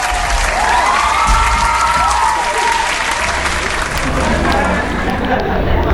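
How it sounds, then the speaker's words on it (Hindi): A large audience breaks into loud, sustained applause with some cheering to welcome a motivational speaker onto the stage, the clapping dense and continuous throughout. "तो आप सबकी भरपूर तालियों में अली अहमद अवान।"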